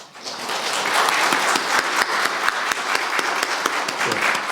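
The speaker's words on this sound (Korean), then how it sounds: "박수로 축하해 주시기 바랍니다." Steady applause from a church congregation at a Sunday service, many hands clapping continuously at moderate loudness, with distinct sharper claps standing out throughout.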